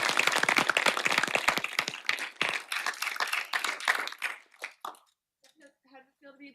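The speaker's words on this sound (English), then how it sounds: "you can clap" An audience claps at a live broadcast-training graduation event, a dense burst of applause that thins out and stops after about five seconds, with a few voices mixed in.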